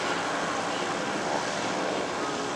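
A C-53 transport airplane passes overhead at an airshow as a steady, broad engine drone with wind noise, constant in level across the short span.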